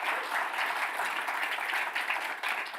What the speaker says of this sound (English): So how about a round of applause for them and the leadership that's gotten us to where we are.